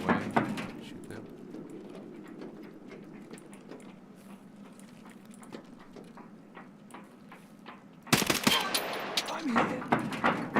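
Gunfire in an online shooter game, faint scattered shots under a low background hum that give way to a loud, dense burst near the end.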